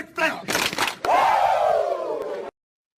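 A voice imitates a Ric Flair 'Wooo' yell, a loud, sustained, wavering shout after a short burst of vocal sounds that could include claps, heard up close and alone.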